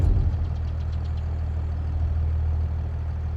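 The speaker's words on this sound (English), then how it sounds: "So now he should bring the tractor and the trailer back." Tractor engine in the video game Farming Simulator 22, a low steady idling rumble with a slight knocking texture, loud and continuous throughout, with no talking.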